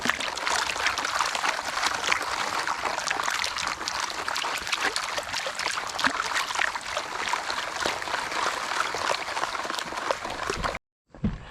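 Water sloshes and swirls steadily in a gold pan as river sand from a Michigan river is worked down, a continuous close wash that cuts off abruptly near the end.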